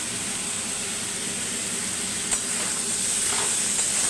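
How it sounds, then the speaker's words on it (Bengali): Meat frying lightly in a pan, a continuous even hiss of hot oil held close throughout, with a faint knock partway through and no voices. "আমি একটু মাংসটা ভেজে নিই, হালকা করে ভেজে নিলে মানে একটা যে গন্ধ থাকে না মাংসের, সেই গন্ধটা কেটে যায়।"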